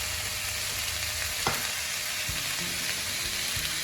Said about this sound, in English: I will also add some soy sauce